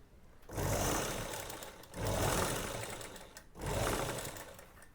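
A sewing machine stitches gents shorts in three steady bursts of motor whir, each running about a second and a half with short pauses between, close and fairly quiet.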